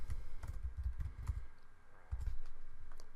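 Soft keyboard taps as a folder name is entered on a computer, a few scattered keystrokes over a low rumbling background hum.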